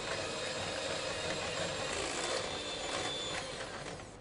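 Double cream for tiramisu is whisked to a half-whipped state in a continuous, rapid, close whirring rattle that eases off slightly at the end.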